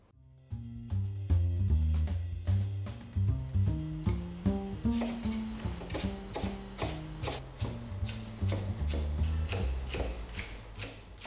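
Vegetables are chopped on a board while preparing a braised venison shank, with steady rhythmic knife strikes, fast runs of close, crisp chops and brief pauses between bursts; no one speaks.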